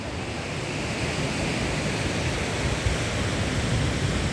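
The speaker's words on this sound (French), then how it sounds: "Cette cascade est bien cachée." A hidden waterfall near Ruta 40 in Argentina gives a constant, loud broadband rush of water with some wind buffeting, heard alone without talk.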